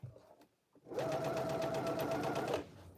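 A sewing machine runs steadily for about a second and a half, stitching cargo pants, with a loud continuous whir that starts abruptly and stops just as suddenly, close by.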